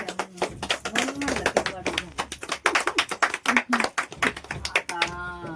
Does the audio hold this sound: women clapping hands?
yes